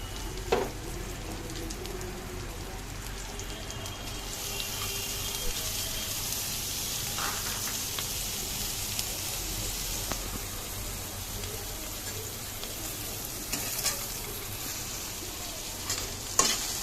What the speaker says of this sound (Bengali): আমি গ্যাসের ফ্লেমটা বাড়িয়েই ভাজছি।